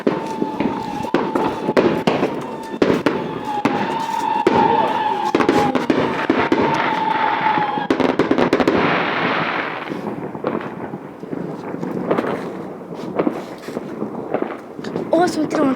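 New Year's Day fireworks exploding, a dense run of sharp bangs and crackles, some near and loud and others more distant, with people talking over them.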